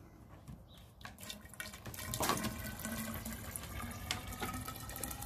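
Water poured from a bottle into a planting tub holding transplanted squash and radish, a continuous close splashing trickle with small drips, growing slightly fuller partway through.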